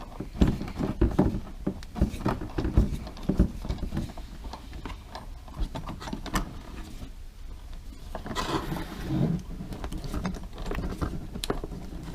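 Screw being tightened on a Honda Accord fog light during installation, a close series of rapid ratcheting clicks and mechanical rattles in bursts across the clip, with a brief lull before more clicking.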